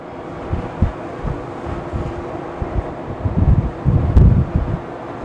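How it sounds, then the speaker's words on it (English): Wind buffeting on the deck of a ferry leaving Ullapool, a rough low rumble of gusts against the microphone, rising and swelling in loud bursts toward the end. "I guess they get some wind here."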